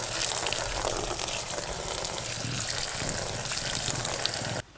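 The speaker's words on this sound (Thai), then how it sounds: "ผ่าเสร็จก็นำชิ้นบอลเรามาล้างน้ำเปล่าให้สะอาดนะครับ" Cut caladium tuber pieces rinsed in clean water, a steady close rushing and splashing wash that continues evenly throughout and then stops abruptly at the end.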